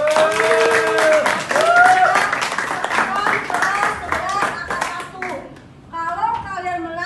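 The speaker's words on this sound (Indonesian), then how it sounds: "tepuk tangan." A classroom of children claps along in brisk bursts, their voices chanting and calling out over the claps, with a short lull before the clapping and voices pick up again.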